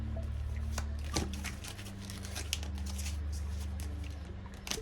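A deck of tarot cards is shuffled by hand at close range, giving a continuous riffling and sliding with soft slaps, fairly quiet, under a steady low hum and with no talking.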